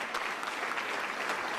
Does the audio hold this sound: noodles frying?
no